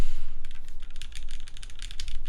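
Steady typing on a mechanical keyboard from a Vertex Angle build, a dense run of close, crisp key clacks with no talk.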